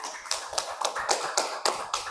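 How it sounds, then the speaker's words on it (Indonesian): Classmates in a classroom lesson give a short round of applause, a string of sharp, separate claps at a steady, sparse pace, close by and fairly quiet, with no talking over them. "beri tepuk tangan untuk teman-teman kita"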